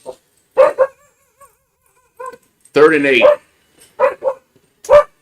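A person imitates a dog with a quick series of short barks and yips, loud and close, broken by a spoken line in the middle.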